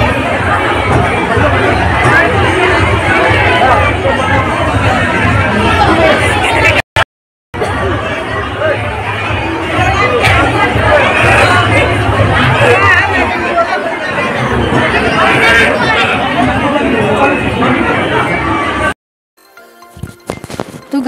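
Dense crowd chatter fills a busy outdoor puja gathering at the morning arghya offering, a steady loud babble of many voices broken by a brief dropout near seven seconds and fading out toward the end.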